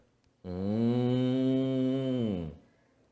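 A single loud cow moo sound effect, a long sustained bovine call lasting about two seconds with a clear onset and fading tail, heard alone against silence.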